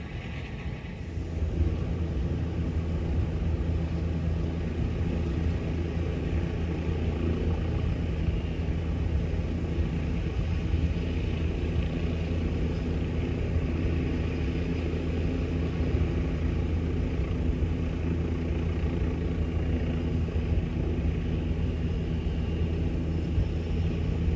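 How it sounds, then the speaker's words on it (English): A helicopter spinning up: a continuous low engine rumble with a steady mechanical drone holds at an even level from start to finish, no voices. "I'm just listening to the helicopter spin up."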